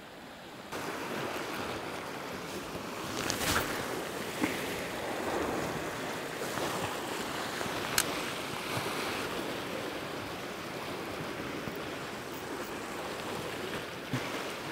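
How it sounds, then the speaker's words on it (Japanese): Sea waves at a rocky Hokkaido shore during evening squid fishing make a steady, loud wash of surf with no break. A few brief splashes stand out over the constant roar. "足元にもやっぱり波が時折高くさらすんですよね。"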